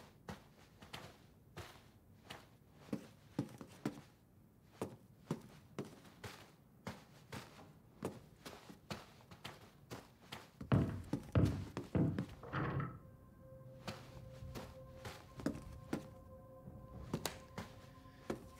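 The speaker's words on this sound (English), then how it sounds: "And somebody's got heavy fucking footsteps, man." Heavy footsteps echo through a castle in Resident Evil, a steady series of thudding steps repeating across the clip with a brief louder rumble in the middle, no voices over it.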